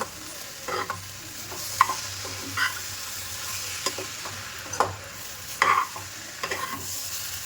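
A spatula stirs prawn, dry fish and egg palya with green gram and masala in a pan, giving soft intermittent scrapes and clinks over a faint, steady sizzle.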